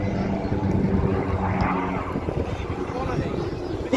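A Bronco aircraft makes a slow, low pass across the beach at an air show, giving a steady propeller and engine drone. A commentator talks over it throughout.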